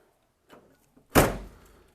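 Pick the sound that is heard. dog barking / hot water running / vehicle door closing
vehicle door closing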